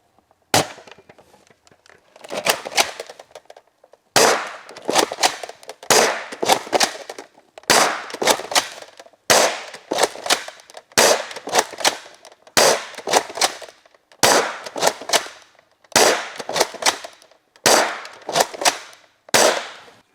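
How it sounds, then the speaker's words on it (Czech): A Gelbee gel blaster toy gun firing into a cardboard box, about a dozen sharp loud cracks with short rattling bursts, spaced roughly one to two seconds apart, close and without talking. "Budu střílet tady do papírové krabice vedle něho."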